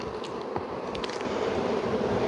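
Honey bees swarm around an open hive box during a colony split, their buzzing a steady, fairly faint hum close by, with a few brief louder passes.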